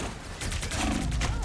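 Rapid gunfire in Marvel Rivals rattles in a dense burst, building in intensity partway through, with faint voices underneath.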